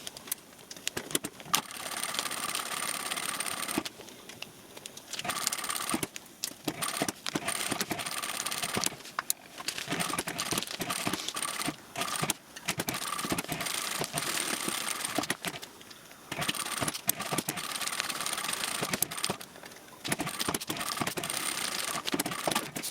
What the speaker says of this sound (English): go ahead and do a basting stitch all the way around to hold all the layers together.